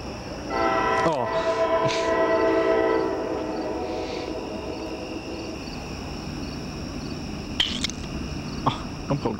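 A CSX train on the St. Lawrence Subdivision sounds its horn in a long sustained blast, then rumbles and clatters past, with crickets chirping steadily in the background.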